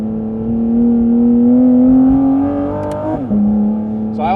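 Porsche GT4 RS exhaust held at a steady, loud high rev, then dropping sharply with a quick blip as it downshifts to first gear, close up and alone.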